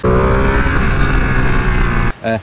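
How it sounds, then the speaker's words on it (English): A 2020 Ducati Panigale V2 with its Superquadro V-twin engine runs loud and close, a sustained rough throbbing drone that cuts off abruptly near the end, followed by a short fainter tonal burst. "it sounds beautiful as well, thanks to this Ducati Super Quadro V-twin engine"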